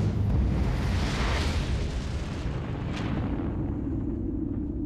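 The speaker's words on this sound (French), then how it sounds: "une étoile massive sur le point de mourir finit par s'effondrer sur elle-même et causer une explosion de supernova." A supernova explosion sound effect: a deep, roaring rumble with a broad wash of noise that swells early and slowly fades, holding low and heavy for several seconds with no voice over it.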